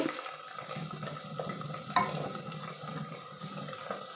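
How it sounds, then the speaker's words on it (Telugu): Onions and green chillies sizzle steadily in oil in a pan with soft scraping and stirring noises, a close, continuous frying sound with no talking. "ఈ మూడు చక్కగా ఇప్పుడు మనము ఫ్రై చేసుకోవాలి"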